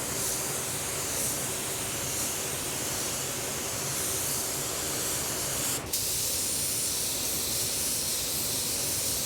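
A spray gun lays down a Zenith Pearl Color Shift mid coat of paint in a steady, loud, continuous hiss that runs almost unbroken, with one brief dip partway through.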